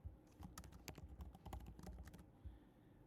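A password typed on a computer keyboard while managing a MetaMask crypto wallet, a quick irregular run of crisp key clicks up close, stopping abruptly near the end.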